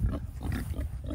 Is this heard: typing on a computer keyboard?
no